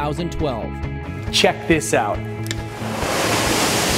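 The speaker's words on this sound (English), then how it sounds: "No matter where you are in the house, the waterfall is right there." A waterfall beside a house rushes as a steady broadband roar, rising to fill the last second alone after someone talks over the start.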